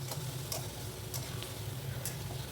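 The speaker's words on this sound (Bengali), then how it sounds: "এবার ওই আগের থেকে ভেজে রাখা কচু আর আলুগুলো দিয়ে একটু কষিয়ে নেব" Taro and potatoes frying in spiced oil for a Bengali kachur torkari curry, a steady low sizzle with occasional sharp scrapes of a stirring spoon, close and alone with no voices.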